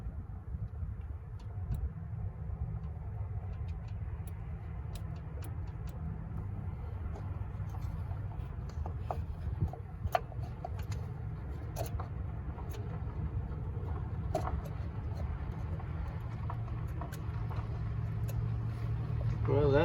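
A 1964 Chevrolet C20 truck engine, abandoned for 19 years, cranks over with a steady low churning drone under continuous talk, slightly rising in loudness toward the end.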